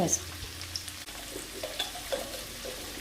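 Okra (ladies finger) frying in a pan, a steady close sizzle with occasional light clinks and scrapes of stirring.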